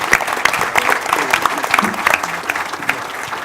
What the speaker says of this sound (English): please giving a strong applause for his introduction